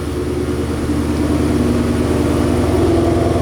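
A 2018-2021 Ford Mustang GT idles with its exhaust set to quiet mode, giving a steady, low, even rumble close by with no revving and no voices.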